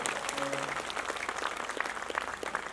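Loud, dense audience applause from a crowd at a live Sufi mela stage show in Nakodar, a steady wash of clapping filling the whole stretch without letting up.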